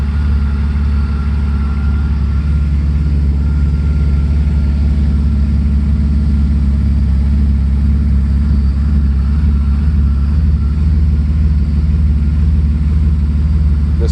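A 1993 Mercedes 600SEC engine with a temporary muffler idles steadily with a deep, loud rumble and a raspy exhaust drone, constant throughout with no revving.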